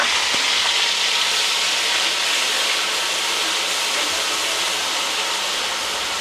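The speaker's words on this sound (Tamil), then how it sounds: "ஆயில் சூடானதும் ஆனியன் ஆட் பண்ணணும்" Onions sautéing in hot oil in a pan on a stove, a steady, loud broadband sizzle and hiss that holds evenly throughout with no talking.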